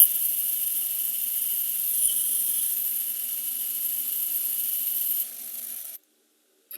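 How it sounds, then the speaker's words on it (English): Small lathe drilling through a swing arm bushing, a steady high-pitched whine that holds for about five seconds, dips slightly, then cuts off abruptly into silence. "these little lathes are not terribly happy when you're running a drill even a ½ inch through stuff"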